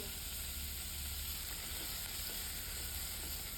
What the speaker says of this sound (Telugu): చిన్న అల్లం వెల్లుల్లి పేస్టు వేసి వేగనివ్వాలి కొద్దిగా జీడిపప్పు